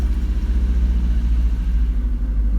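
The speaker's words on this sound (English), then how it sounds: "So let me turn the engine." Mazda NA Miata with the 1.8 engine running just after a fresh oil change, a steady low pulsing idle heard close up and alone.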